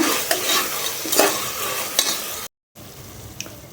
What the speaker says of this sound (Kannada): ಈಗ ಚೆನ್ನಾಗಿ ಮಿಕ್ಸ್ ಮಾಡ್ಕೊಳ್ಳೋಣ